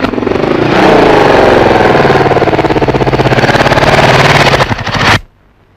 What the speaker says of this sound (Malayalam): ഒരു മോട്ടോർ സൈക്കിളിന്റെ ശബ്ദം.